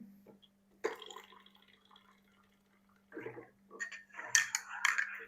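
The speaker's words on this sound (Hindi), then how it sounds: "थोड़ा और पानी डालेंगे।" Water is poured in a few short, quiet splashing bursts separated by pauses, close by.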